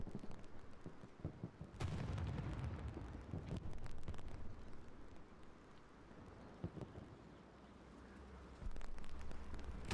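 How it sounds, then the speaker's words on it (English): Neighbours' fireworks going off outdoors, a series of sharp distant pops and booms with irregular spacing, faint against a background of wind rumble. "Neighbours around have got them fireworks going off."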